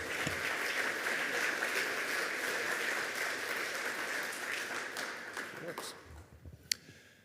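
Audience applause welcoming a speaker at an environmental theater and conversation event, a steady dense wash of clapping that fades gradually toward the end, with a lone sharp click near the close.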